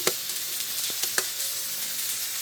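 Squid and onions frying in a pan, a constant close sizzle broken by sharp scraping clicks as the pan is stirred.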